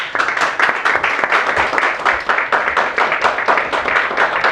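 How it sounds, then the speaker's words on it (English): Sustained applause from a conference audience, dense steady clapping filling the whole stretch at a fairly loud level. "I think well merited applause"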